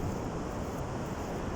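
Rough sea waves wash onto a beach on a fantastic morning. A dense, continuous, broadband roar of surf holds steady throughout with no voices, mixed with some wind rumble.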